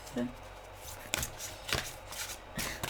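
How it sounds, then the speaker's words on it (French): Tarot cards are shuffled by hand in quick, riffling bursts with soft flicks between them, close by, while a voice speaks faintly. "C'était le jour pour tirer les cartes."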